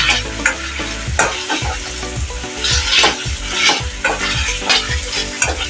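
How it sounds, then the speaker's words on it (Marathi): Chopped onions fry and sizzle in a pan for pav bhaji while a masher or spoon scrapes and thumps rhythmically through them, close and steady, with no talking. "स्मॅशरनं आपल्याला थोडंसं हे असं बारीक करून घ्यायचं आहे, त्याच्यामुळे ते कांद्यामध्ये मिक्स होईल."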